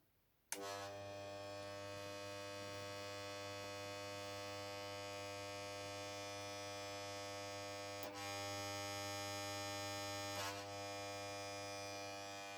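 A microwave oven transformer, wired in a series circuit with its secondary shorted, switches on with a sudden onset into a loud, steady mains hum with rich buzzing overtones, holding constant with a couple of brief crackles.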